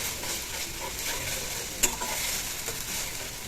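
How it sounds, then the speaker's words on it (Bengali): Green chilli paste, cumin paste and a few pieces of garlic fry in a pan, a soft steady sizzle with occasional stirring scrapes and one sharp utensil knock midway. "তারপরে ভালো করে কষাবো, কষিয়ে কাঁচা ভাবটা চলে যাবে।"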